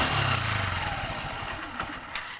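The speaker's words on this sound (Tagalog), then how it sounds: "So ngayon ay paanda rin ko tong makina nito para pakinggan ko ng maigi kung saan talaga banda ang ingay." Honda TMX125 motorcycle engine idling steadily up close with an abnormal mechanical noise in its running, a low pulsing rumble that settles slightly, with a couple of brief clicks near the end.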